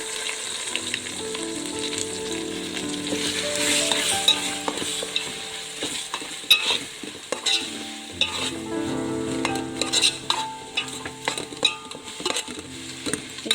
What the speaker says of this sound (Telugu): బాగా పచ్చివాసన పోయేంత వరకు ఫ్రై చేసుకోవాలండి.